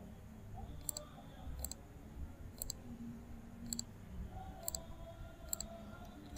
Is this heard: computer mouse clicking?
yes